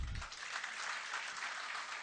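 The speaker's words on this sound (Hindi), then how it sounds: "मैं चाहता हूं कि आप अपने लिए एक मर्तबा जोरदार ताली बजाएं।" Audience applause at an Urdu mushaira poetry gathering in Jubail, a dense, steady clapping from a large crowd that holds evenly for about two seconds with no talk over it.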